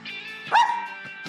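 A cartoon dog gives a short, bright bark in the Mathseeds Doggy Bones counting game, one quick yip over a light musical backing, close and clear with no talking.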